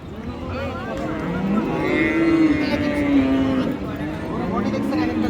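Cows moo at a crowded cattle market in Aftabganj, Dinajpur, one long, loud, close call rising through constant background chatter and people talking nearby.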